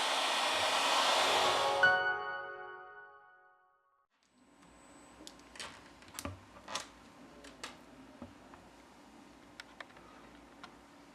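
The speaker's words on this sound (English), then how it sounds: "With the help of a heat gun, we apply 90 Celsius degrees during 4 minutes." A heat gun blows hot air onto a Samsung Galaxy Z Fold3 phone to soften its adhesive, giving a loud steady whoosh for about two seconds that fades out. Light clicks and taps from handling follow in a quiet room.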